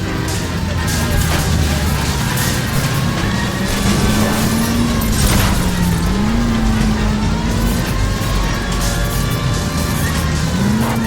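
A streetcar in the L.A. Noire video game rolls along a city street, a loud continuous engine drone with rising and falling tone, rumble and scraping noise throughout, and no voices.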